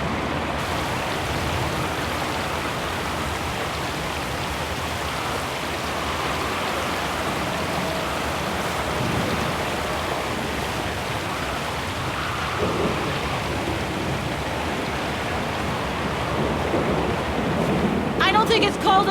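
Steady, dense storm rain pours across the whole stretch in Syberia: The World Before, with low rumbling thunder swelling beneath it and a louder patter near the end.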